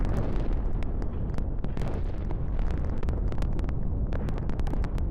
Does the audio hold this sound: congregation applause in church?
no